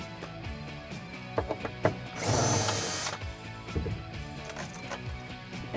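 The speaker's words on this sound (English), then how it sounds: "You can take a T40 Torx and remove them." A T40 Torx driver from the Jeep Wrangler JL toolkit removes the cargo tie-down points, giving scattered metallic clicks and ratcheting knocks around a roughly one-second burst of grinding, driver-like whir.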